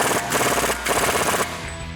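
An impact wrench with a 36mm axle socket tightening the axle nut on a Jeep Wrangler JK wheel hub, firing three loud close rattling bursts separated by brief pauses.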